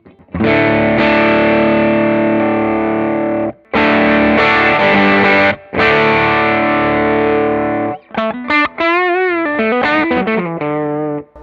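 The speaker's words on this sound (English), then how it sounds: "let's start with the Tube Screamer style, so the Jam Lucy Dreamer" Electric guitar through a Jam Lucy Dreamer Tube Screamer-style overdrive pedal into an amp, long sustained distorted chords broken by short pauses, then a wavering, bent single-note lead line, loud and close with no talking.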